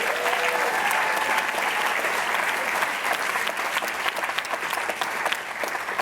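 A graduation audience applauds with sustained, dense clapping from a large crowd in a hall, which thins slightly toward the end.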